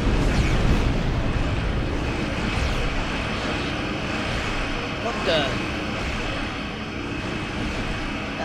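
A starship fighter streaks past in a Star Trek Online space battle, a loud, sustained engine roar with a brief whooshing swell in the middle, while a voice briefly exclaims over it.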